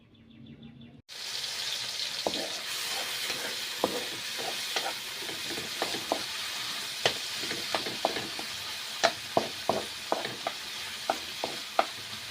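Bagoong frying in a pan with a steady sizzle, while a utensil scrapes and stirs in irregular clicks and taps that grow sharper toward the end; no talking.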